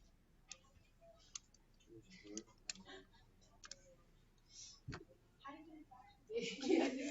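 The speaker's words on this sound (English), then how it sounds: "I'm going to type it in the calculator." Calculator keys tapped one at a time while working out a logarithmic equation, giving sparse, light clicks spread over several seconds, with some quiet talk in between.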